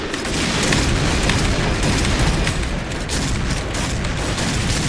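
Continuous loud gunfire and booming blasts in the Point Blank online shooter, with dense overlapping shots and no pause.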